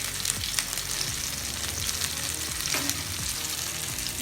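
Tandoori chicken cooks in a little oil on a stand over a home stove, crackling and sizzling steadily up close, with occasional scrapes and pops and no talking.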